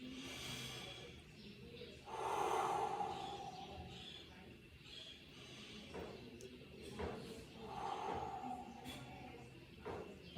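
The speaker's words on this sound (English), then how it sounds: "In through your nose, out through your mouth." Slow, deep breaths during a stretching and strength routine, drawn in through the nose and pushed out through the mouth, with two fuller exhales standing out above a faint, noisy room background.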